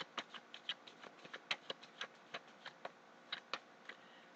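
Tarot cards being shuffled by hand, a quick run of soft, crisp card slaps and riffles arriving in uneven bursts, close and fairly quiet with no talking.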